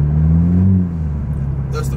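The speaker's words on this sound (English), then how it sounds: "I don't know if y'all can hear the burbles, but man, my car is burbling its life away." A Honda Civic's exhaust burbles and crackles at low idle-like rumble from inside the cabin, a steady deep drone with uneven pops, while someone talks over it.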